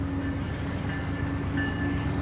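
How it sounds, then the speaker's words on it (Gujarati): Close, steady rumble of a passing Canadian Pacific container train with two engines, in Thunder Bay near Lake Superior, with a faint ringing tone above it, continuous throughout with no voices. "આ ટ્રેન નીકળી"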